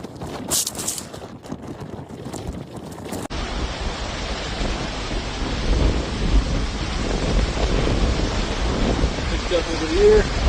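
A thunderstorm during a tornado brings heavy rain and rolling thunder, a dense, loud, continuous roar that swells and deepens over time.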